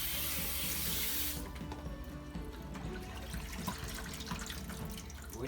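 Water runs from a kitchen sink tap and splashes onto a whole turkey as it drains. A loud, steady gush cuts off after about a second, leaving trickling, dripping and faint clattering in the sink.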